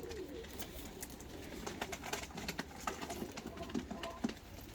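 Pigeons shuffle and coo in a crate as it is opened, with low soft cooing and fluttering, scattered wing claps and scuffing taps building toward the end over a steady background hiss.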